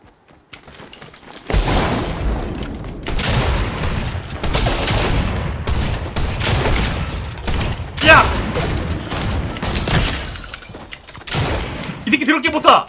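Dense Fortnite gunfire cracks in rapid overlapping bursts for most of the span, loud and close, with excited talk layered over the shooting and a short quiet lead-in.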